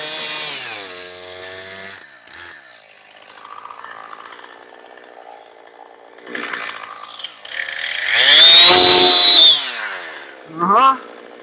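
A chainsaw cuts through an oak log outdoors, idling and buzzing at first, then bogging into a loud, sustained roar as it bites through the wood before easing off near the end.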